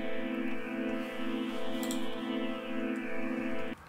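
A sustained FM-synthesized pad chord holds steady with a shimmering, airy tone and slow swells, then cuts off abruptly near the end.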